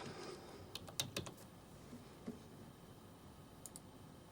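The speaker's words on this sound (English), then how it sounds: "so I type in my name, then the subject, I'll put VO test" Someone types on a computer keyboard, a quiet burst of clicky keystrokes near the start and a few more scattered taps later, set against faint room hiss.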